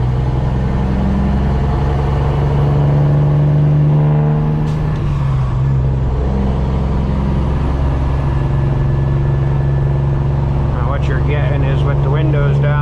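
Custom Peterbilt truck with straight pipes skipping gears while driving on a two-lane road, a loud, deep continuous engine rumble that dips during a shift and then resumes, with some clicking toward the end.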